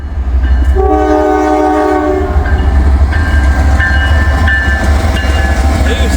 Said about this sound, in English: So we might have a train meet here.